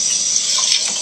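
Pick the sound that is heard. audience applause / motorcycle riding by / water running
water running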